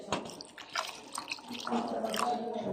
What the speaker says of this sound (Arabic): انا ابدا اضيف له الشوربه زي ما انتم شايفين كده